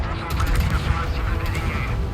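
Naval gunfire from a Napoli cruiser in World of Warships roars loud and dense across the whole clip, a continuous thundering blast wash with rumbling low end.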